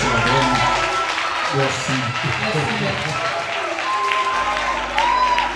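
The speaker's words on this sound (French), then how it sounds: "S'il vous plaît, levez-vous applaudisser pour la parole de Seigneur." An audience at a vocal competition quarterfinal applauds steadily from start to finish, a dense wash of clapping and crowd noise with an amplified voice speaking over it throughout.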